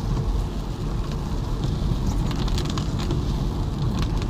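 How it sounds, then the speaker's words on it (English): Steady rain hisses and patters throughout, a dense constant wash of sound with a low rumble underneath. "Raining, raining."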